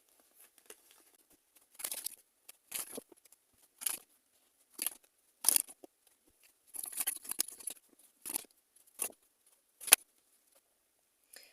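Tarot cards are shuffled and handled in short, quiet bursts of papery flicks and rustles spaced through the clip, close and soft with no voice.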